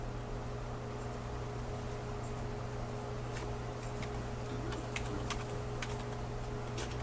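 Soft, sparse clicks of typing on a computer keyboard are heard, faint against a constant electrical hum and background hiss.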